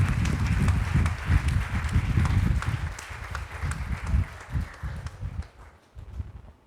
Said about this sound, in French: On va apporter une forte acclamation au Seigneur pour ce message